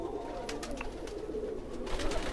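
Pigeons cooing in a loft of kept birds, soft low repeated coos with a few brief higher calls, fairly faint and steady throughout.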